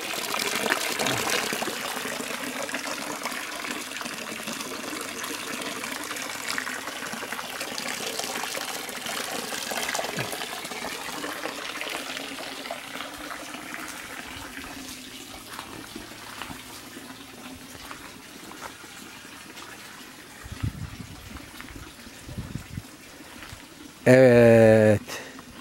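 Village water runs freely from an untapped outlet, a steady gushing flow that holds broadband and fairly loud for about twenty seconds before thinning out, with a brief sharp noise near the end.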